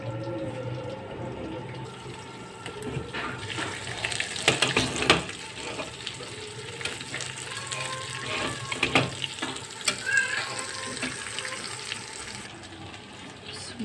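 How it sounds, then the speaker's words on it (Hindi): Eggplant (baingan) pieces fry lightly in hot oil in a pan, giving a steady, close crackling sizzle that swells and fades as they are stirred, with no voices. "अब इसके अंदर हम ये सारे बैगन हमने हल्के हल्के इसको लाइट सा फ्राई करना है"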